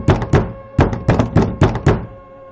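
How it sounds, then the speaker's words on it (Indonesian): Loud knocks strike a door close by in an uneven series of about seven hard, hollow thuds, some in quick pairs, with no voices. "Ketukannya lebih keras,"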